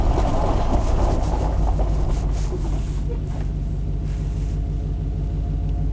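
A 1991 Chevy K1500 pickup truck pulls away and drives, a heavy low engine rumble with steady drivetrain drone, loud and close from inside the cab, easing slightly after the first couple of seconds.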